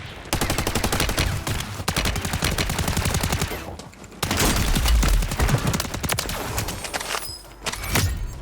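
Rapid automatic gunfire in the Warzone video game, long dense bursts of loud shots with a brief lull midway and a final shot near the end.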